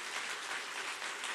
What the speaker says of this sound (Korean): 우리 어르신들 박수 한번 해드립시다.